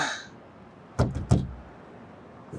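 Two firm knocks on a door, about a third of a second apart, loud and close, with quiet room tone around them and no voices.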